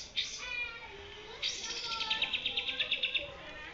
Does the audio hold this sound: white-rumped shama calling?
yes